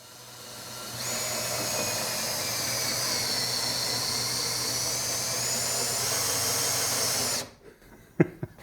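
A drill-powered tool gives a high-pitched motorized whine that runs steadily for several seconds, then cuts off, followed by a few sharp knocks.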